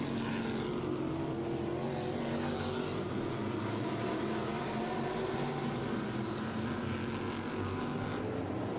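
NASCAR modified race cars roar around Riverhead Raceway, a continuous loud engine drone from a pack of cars on the back straightaway with slowly shifting pitch and no pauses.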